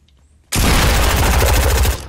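Rapid gunfire from a Fortnite match bursts in abruptly after a quiet moment, a loud, close, sustained stream of shots that runs to the end without any talk.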